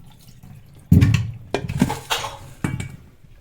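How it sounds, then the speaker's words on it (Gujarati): Lemons are washed in water at a kitchen sink, giving a few close splashes and clinks against a bowl or dishes in short bursts over a quiet background. "તો સૌપ્રથમ આપણે લીંબુને ધોઈ નાખીએ."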